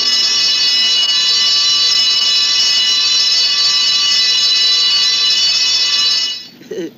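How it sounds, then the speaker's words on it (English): A loud, continuous fire alarm bell ringing steadily for about six seconds at close range, then cutting off abruptly, followed by a brief faint sound. "somebody left open the fire alarm. You know, if the kids see that, they'll ring it."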